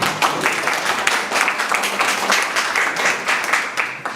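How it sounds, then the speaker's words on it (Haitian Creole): Audience applause at an agricultural training event organized by a municipal committee in Trou du Nord, steady dense clapping from a crowd lasting the whole stretch at moderate loudness. "je vous demande de l'applaudir s'il vous plaît"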